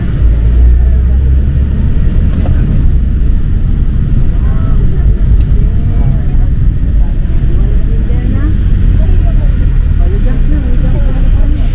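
Van ride with a steady low engine drone and road rumble inside the cabin, loud and continuous, with people talking over it.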